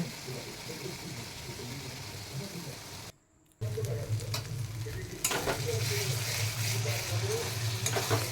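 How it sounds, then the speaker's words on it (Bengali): Spice paste for a katla fish curry sautéed in oil in a pan, a steady close sizzle with scraping stirs, cut off by a brief silence before frying resumes louder. "আমি মশলাটা ভালো করে কষিয়ে নিচ্ছি"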